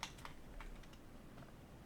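A few quiet clicks from a computer keyboard during estimating software work, including a single space bar press, with soft taps spread over about two seconds and faint background noise.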